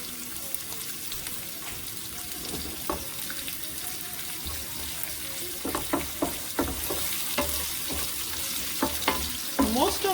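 Onions sizzle and fry in hot oil in a pan, a steady close crackle with scattered stirring scrapes and clinks growing busier toward the end.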